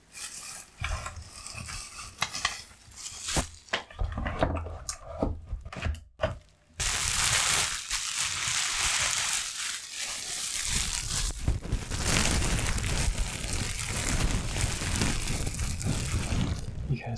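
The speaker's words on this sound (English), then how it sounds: "I put you inside the bubble wrap" Bubble wrap around a Redragon K552 keyboard crinkles and rustles close by, in patchy handling at first and then a dense, continuous crackle that carries on to the end.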